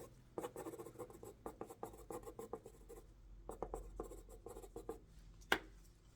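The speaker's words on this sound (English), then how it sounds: "I'll just write those numbers down." A pen scratches out numbers on paper in quick, close, quiet strokes with short pauses between them, with no talking.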